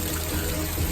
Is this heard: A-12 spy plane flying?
no